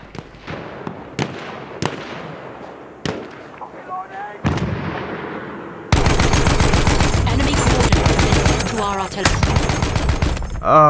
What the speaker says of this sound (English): I'll open fire anyway, just so you can see what this weapon's like.